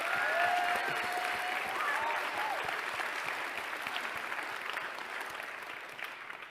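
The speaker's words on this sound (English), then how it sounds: "Another huge round of applause for our amazing student content." Audience at a youth philanthropy national event claps for student presenters, a sustained, fairly distant round of applause that slowly tapers in loudness toward the end, with some cheering tones early on.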